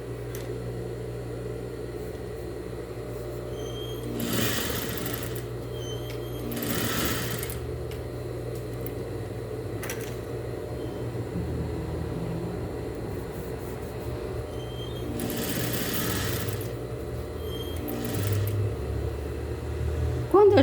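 A sewing machine stitches a fabric dish towel with a steady mechanical whir, pausing and restarting in short runs, while someone talks softly over it.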